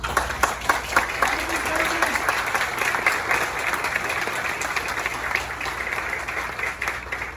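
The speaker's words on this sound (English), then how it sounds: "let's give him a round of applause" A crowd applauds at a 50th presentation ceremony, with sustained, fairly loud clapping that starts with sharp claps and settles into an even wash for several seconds.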